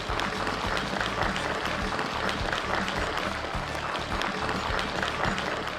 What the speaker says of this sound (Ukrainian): Овації